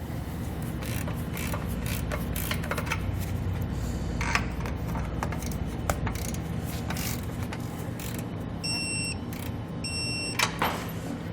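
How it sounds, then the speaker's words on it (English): Ratchet with a 9/16 inch socket tightening serrated lock nuts on an air helper spring install for a 2020 Chevrolet, quick bursts of clicking against a constant background hum, followed by a few short electronic beeps near the end. "Now we're going to go ahead and tighten up these serrated lock nuts. We're going to be doing this with a 9/16" socket."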